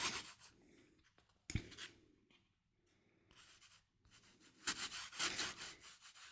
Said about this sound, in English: gently rub your finger into the gaps, and you're just forcing the embossing powder into those little